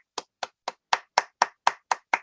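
Nine sharp hand claps at a steady, even pace, each crisp and close, alone without any voices.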